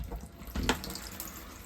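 Water runs from a tap into a sink inside a camper, a close, steady splashing stream with a brief louder gush partway through and no voices.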